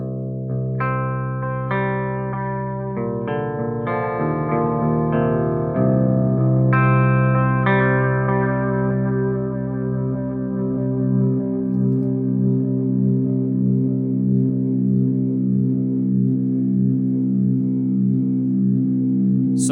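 Boss DD-500 delay pedal repeating guitar notes, with a filter in the feedback loop cutting each pass, so the echoes decay and darken into a throbbing, low, warbling tail after a burst of plucked notes.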